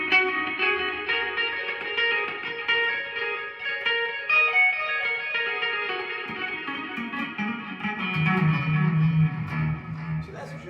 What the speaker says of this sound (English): If I come over a little bit further, we get a classic tape echo sound.